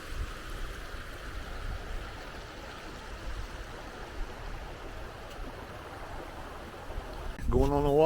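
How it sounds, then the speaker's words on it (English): A creek flows steadily beside a winter campsite near a Civil War iron furnace, its soft continuous rush of water running throughout, with a brief louder rustle near the end. "The creek is just really nice."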